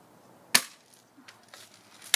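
Airsoft shotgun shots fired outdoors at targets, two sharp snapping cracks about a second and a half apart with faint clatter between, otherwise quiet.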